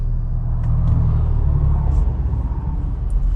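A Jeep JL with a K&N intake and manual transmission rumbles loudly and steadily under load, a deep continuous engine drone with slight swells, heard from inside the vehicle.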